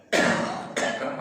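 Two harsh coughs, the first longer and the second short, close and fairly loud with no talking.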